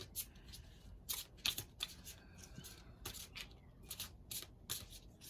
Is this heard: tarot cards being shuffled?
yes